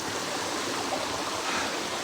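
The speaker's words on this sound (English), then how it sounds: "That's the Nameless No More waterfall." Steady roar of a waterfall in Japan, a continuous broadband rush of falling water heard close and alone with no voices.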